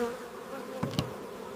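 Honeybees buzzing around a beehive, a steady close hum with a couple of brief louder passes.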